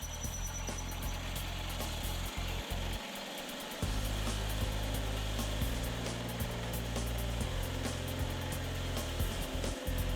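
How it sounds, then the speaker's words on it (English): An electric drill with a pilot bit whirs steadily into ceramic tile at slow speed with light pressure, a low motor hum, cuts out for a moment, then starts again and keeps running. No one speaks. "Start drilling slowly and exert very little pressure so you won't break the tile."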